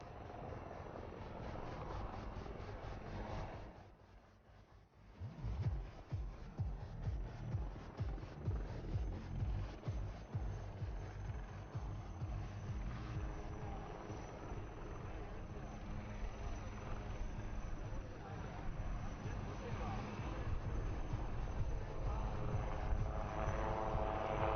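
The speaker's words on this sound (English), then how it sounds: "Here she is, the LCH in front of us, will now perform some sideward movement" A Light Combat Helicopter displays at the Aero India 2021 air show, its loud rotor thumping and turbine roar rising and staying close, with a brief dip early on; a voice talks over it.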